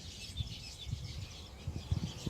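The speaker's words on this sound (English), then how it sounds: "Listening to the birds here." Faint birdsong chirps and trills in the distance over a quiet outdoor background, with soft low rustling bumps nearby.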